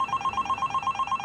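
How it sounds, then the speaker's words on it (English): A telephone bell rings in a fast, steady pulsing pattern, close and clear, repeating through the whole short stretch with no voices over it. "Aaron, the phone! You have it"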